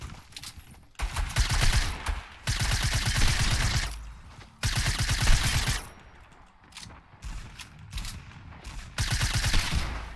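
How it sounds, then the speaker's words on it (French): Rapid bursts of suppressed pistol fire in the video game Fortnite, several long volleys of quick repeated shots separated by short pauses, loud and close. "Il y a un pistolet silencieux."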